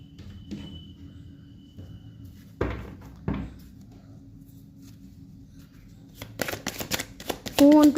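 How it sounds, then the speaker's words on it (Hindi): Tarot cards are shuffled and drawn for a reading, with soft handling taps early on, then a quick flurry of riffling and card slaps near the end, while someone speaks. "यहाँ से भी मैं 2 कार्ड लूँगी"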